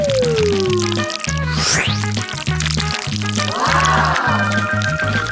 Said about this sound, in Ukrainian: А тепер потрібно залити наші цукерки солодкою смакотою.